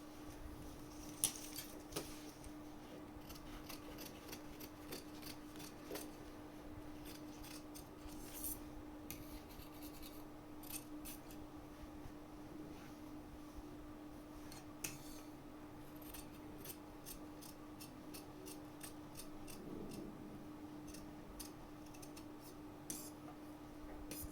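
Scissors snip through fabric while cutting pieces for a boat-neck kurti, giving quiet, close, irregular crisp clicks and rasps over a steady low hum, with no talk.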